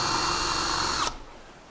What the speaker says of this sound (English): using forward and reverse on the drill to adjust the height of the ladder